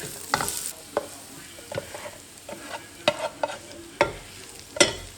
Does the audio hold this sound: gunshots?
no